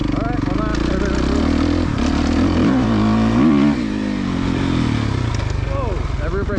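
A Suzuki 2023 RMZ450 dirt bike engine runs loud and close, with its pitch rising and falling as it revs, while someone talks over it.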